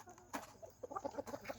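Fighting rooster on a farm giving a run of short, soft clucks, close and fairly quiet, with a brief rustle before them.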